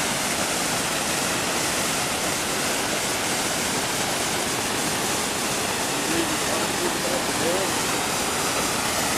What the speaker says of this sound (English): Now we're in the stream below the dam.